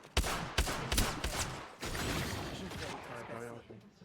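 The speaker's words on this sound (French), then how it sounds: "Hey, on me tire dessus." Gunfire in the Apex Legends video game: a few sharp, loud shots in quick succession at the start, followed by a busier stretch of game sound effects.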